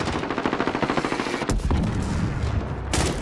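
Automatic gunfire in Call of Duty: Modern Warfare, a fast rhythmic burst of loud close shots followed by heavier blasts and rumble.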